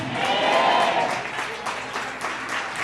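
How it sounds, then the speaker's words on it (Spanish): A church congregation at a Resurrection service breaks into strong applause, loud and dense clapping that rises early, then continues with scattered individual claps standing out near the end. "Dale ese aplauso bien fuerte al que vive por los siglos de los siglos"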